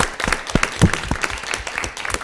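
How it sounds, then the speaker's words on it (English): Brief burst of audience applause after a panel discussion on community violence, dense and close with sharp individual claps standing out. "Let's give Kim our special applause for the work that she and her colleagues have done."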